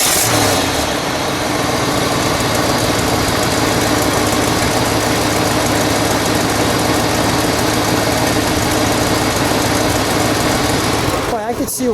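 A 1966 Ford 7 Litre V8 two-door runs loud and close, a steady deep idle with a low burbling rumble throughout and a short rev near the end, with a voice speaking over it.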